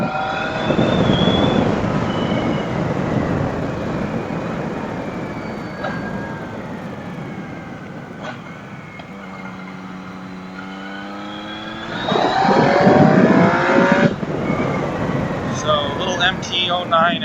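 A Yamaha MT-09 motorcycle engine accelerates out of a corner, its rising revs audible under wind noise and someone talking over it, louder toward the end.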